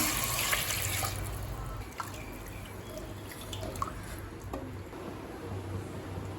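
Water poured into a cooking pot with prawns for prawn biryani, a continuous splashing trickle with occasional drips, moderately quiet and alone.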